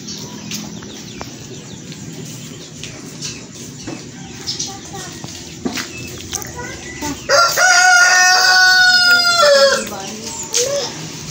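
A rooster crows loudly and close by, one long drawn-out call near the end, over quieter background chatter and faint clucks from other fowl.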